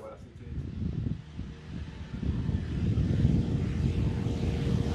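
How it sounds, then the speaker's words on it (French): A light airplane takes off, its propeller engine building into a steady, rising drone that grows louder over several seconds. Outdoor wind noise and talk are mixed in. "Lorsque tout à coup, Jackie s'envole."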